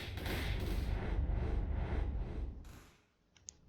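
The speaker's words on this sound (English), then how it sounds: "it'll continue with this field of explosions until the ultimate energy, until the ultimate charge runs out" Explosions from the Temporal Convergence ability in the video game Primordial Arts rumble in a dense, booming barrage of repeated blasts, then fade away, followed by a single sharp tick.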